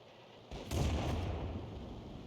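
Tank cannon fire in a video game battle involving a Valentine II tank: a sharp report followed by a heavier blast that rolls into a sustained, loud rumbling decay.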